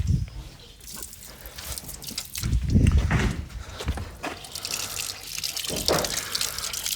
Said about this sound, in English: So turn that on, Ben. It's got crap pressure